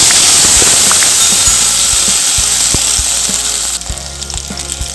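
Tomatoes and green chillies sizzle in hot oil in a kadai, a steady loud frying hiss with scattered pops and crackles throughout, easing slightly toward the end.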